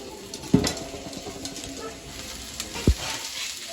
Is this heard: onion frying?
yes